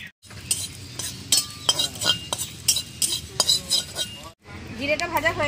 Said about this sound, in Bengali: কিছুটা জিরে ভেজে নেবো